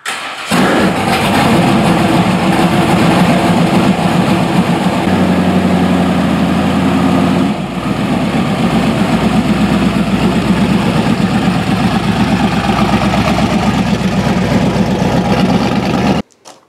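A Jimmy Smith rock bouncer buggy engine starts and settles into a loud, steady idle close by in a shop. The rumble shifts briefly midway and then runs on until it cuts off at the end.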